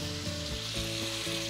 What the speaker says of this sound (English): making sure that you'll always hear the sizzling sound.